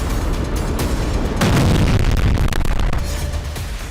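Heavy booms of rocket and missile strikes hitting cities in northern Israel, a loud sustained rumble with a stronger blast near the middle, with no voices.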